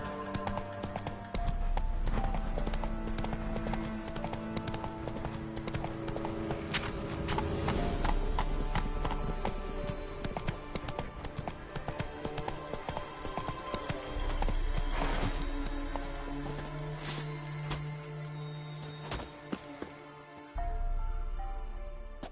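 The horse Roach galloping in The Witcher 3 video game, with steady hoofbeats running under a busy mix of game music and effects.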